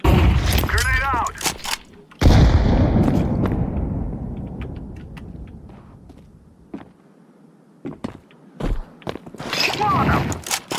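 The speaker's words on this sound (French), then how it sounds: "I'm throwing a flashbang. Grenade out." A flashbang grenade goes off in a CS GO match: a sudden loud burst that decays into a long fading ringing rumble, with footsteps and gunfire clicks around it and brief talk near the start.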